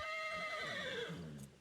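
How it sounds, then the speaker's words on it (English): Horse neighing in the open-world western game Red Dead Redemption 2, a single clear whinny heard alone at moderate volume. "Do I hear horses?"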